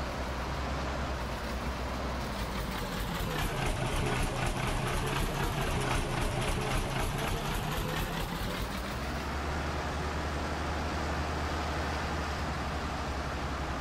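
An old W50 truck engine hauling straw in Farming Simulator 19 drones steadily and loud throughout, a dense low rumble that rises slightly in pitch midway and then settles back, with no voices.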